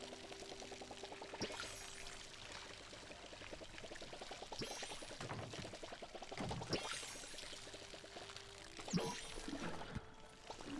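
Water pours steadily from a watering can onto a blueberry bush in the Palia video game, a continuous gentle splashing stream with a few brief clicks and tones.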